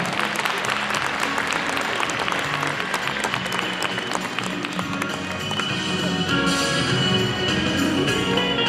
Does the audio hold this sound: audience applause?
yes